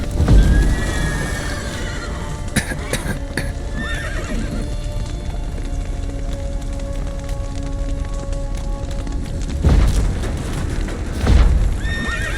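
Horses in a video game whinny and neigh repeatedly, close and loud, with clip-clop hooves and crackling fire near a collapsed roof, plus occasional heavy thumps.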